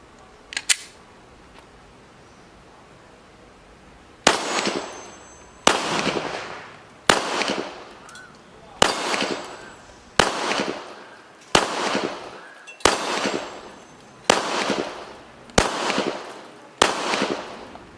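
A Glock 19 Gen 5 MOS pistol fires ten rounds at a range, sharp loud reports at roughly even intervals of about a second and a half, each with a short echoing tail, after a few faint clicks at the start.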